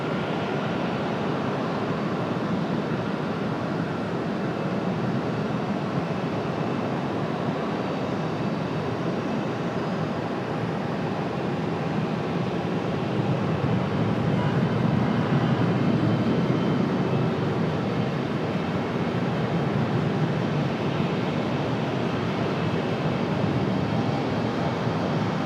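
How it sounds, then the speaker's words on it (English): An Aer Lingus airliner touches down at Raleigh-Durham airport, a steady, broad roar of engines and rushing air holding loud throughout with no speech. "Aer Lingus finally touching down"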